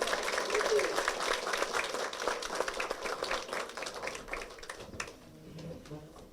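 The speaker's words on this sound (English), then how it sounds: "Please give them a round of applause." Banquet audience at a volunteer fire department and rescue squad annual dinner applauds steadily for about five seconds, a dense crowd of clapping hands that thins out near the end, with some voices mixed in.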